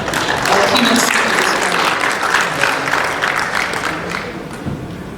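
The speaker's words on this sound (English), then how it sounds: "A round of applause for our keynote speakers" An audience applauds keynote speakers at the closing ceremony of an African logistics and transport forum, a dense, steady wash of many hands clapping throughout that eases slightly toward the end.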